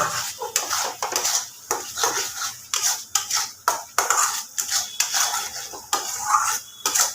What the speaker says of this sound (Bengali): আরও খানিকটা সময় ধরে মশলাটাকে আমি কষিয়ে নেব